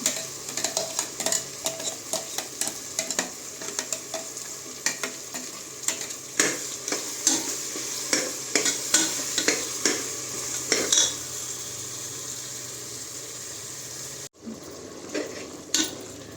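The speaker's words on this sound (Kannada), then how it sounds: "ನಾವು ಮಸಾಲೆ ಚೆನ್ನಾಗೆ ಹಸಿ ವಾಸನೆ ಹೋಗೋವರೆಗೂ ಫ್ರೈ ಮಾಡಬೇಕು" Masala frying in a pan for tomato bath sizzles steadily in a continuous hiss, while a spoon stirs and scrapes against the pan in frequent light clinks, close up and with no talking.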